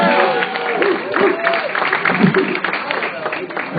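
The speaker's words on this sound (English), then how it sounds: "Keep another round of applause for Jacob James Garcia" A comedy show audience applauds a comedian, with a dense wash of clapping and crowd noise throughout, a voice talking over it.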